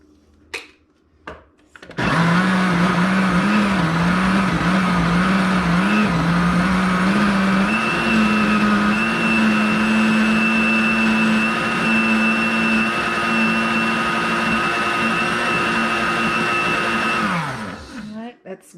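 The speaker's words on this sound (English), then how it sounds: "put the seasoning into the blender, and let's see how this works" A kitchen blender whirs steadily for about fifteen seconds, blending seasoning with water for a Jamaican meatloaf, loud and close, with its pitch rising slightly partway through before winding down; a few clicks come before it starts.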